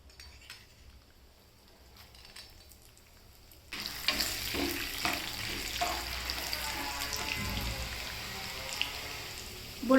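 Chana dal, urad dal and fennel seeds frying in hot oil in a home kitchen, a quiet start giving way to a steady crackling sizzle with occasional stirring and clinks of a utensil against the pan.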